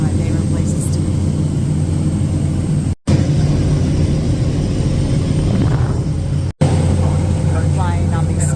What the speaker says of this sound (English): We're flying on these small planes.